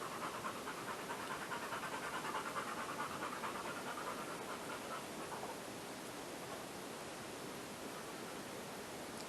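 A dog pants rapidly and rhythmically close by outdoors, its quick breaths partly buried in a steady hiss of wind or rushing water.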